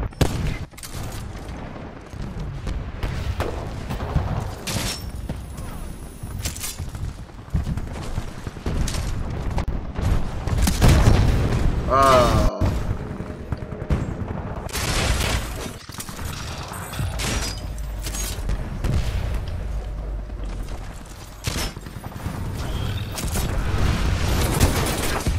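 Secondary pistol gunfire in Titanfall 2 rings out in quick repeated shots amid a dense, loud mix of mechanical clanks, booms and other game noise, with no talking.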